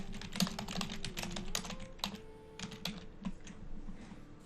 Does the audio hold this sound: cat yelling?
no